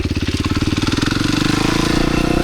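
A supermoto dirt bike engine revs hard during a wheelie, a loud, close, rapid pulsing exhaust note that rises steadily in pitch as the throttle opens.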